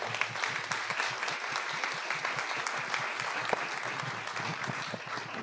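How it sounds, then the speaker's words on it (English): An audience at an environmental policy panel gives sustained applause, a dense, even wash of clapping throughout. "can we give our panelists a round of applause"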